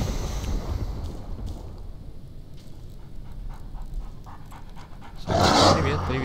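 Dogs panting in the online shooter S.T.A.L.K.E.R., a steady breathy texture with wind-like noise through the clip and a louder, brighter burst near the end.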